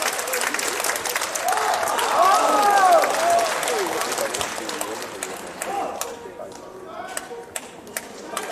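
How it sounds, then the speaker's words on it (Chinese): Audience applause at a Peking opera concert, dense clapping that swells, peaks, then thins out, with crowd voices and a few shouts mixed in. "掌声有请"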